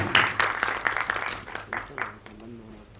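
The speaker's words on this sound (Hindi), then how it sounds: "जोरदार तालियां हो जाए for the actress Pritika Chauhan please" An audience claps at a Hindi film trailer launch as an actress is called onto the stage; short bursts of clapping that fade out, with a voice talking over the end.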